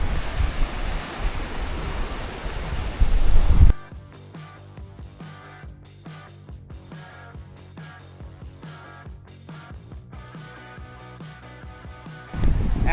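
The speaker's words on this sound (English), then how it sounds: "Got the water rushing right next to you." Rushing water from a crystal-clear stream beside a trail gives a steady broadband wash, loud at the start and end with a quieter stretch in between.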